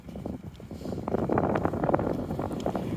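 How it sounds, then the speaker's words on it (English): Gusty wind buffets the microphone outdoors on a neighbourhood street, a rough, fluctuating rumble that swells and dips for a few seconds, fairly faint, with no talk. "A little breezy here."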